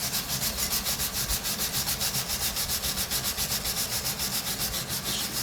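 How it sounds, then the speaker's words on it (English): Steel brush scrubbing new gold bars in fast, even back-and-forth strokes, a steady rhythmic scratchy rasp heard up close and alone. "So this is a steel brush."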